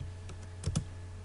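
Two quick keystrokes, L then Enter, tapped on a computer keyboard while working in AutoCAD, with a couple of faint clicks before them in a quiet room.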